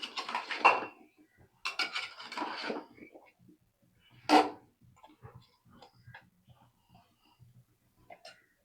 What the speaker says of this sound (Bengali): মিষ্টি কুমড়া গুলো কাটা, কেটে ধুয়ে রাখছিলাম, এগুলো দিয়ে দিলাম।